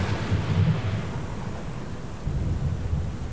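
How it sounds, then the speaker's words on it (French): Heavy rain pours steadily over low, rolling thunder in a depiction of the biblical flood, a loud, continuous roar with deep rumbling that swells and fades. "Il se mit à pleuvoir sur la terre."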